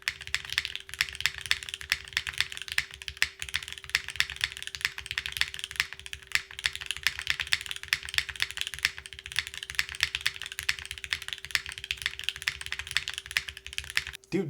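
A Capy60 R2 mechanical keyboard with an aluminum plate, no foam and a stainless steel weight, types in a fast, steady stream of crisp close keystrokes with occasional heavier slappy spacebar hits, throughout with no talk.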